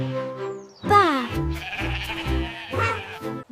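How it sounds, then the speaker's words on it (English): A sheep on a farm bleats several times in close succession, loud and near, with wavering, nasal cries heard alone. "This is a sheep."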